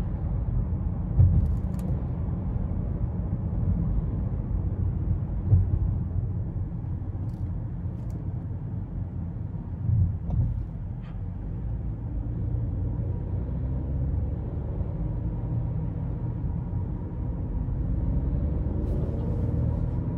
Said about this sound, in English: And that 2-liter turbo grunt is awesome.